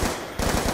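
Automatic gunfire from the M-Tot in Call of Duty: Black Ops 2, a short, loud, rapid burst of shots lasting under a second.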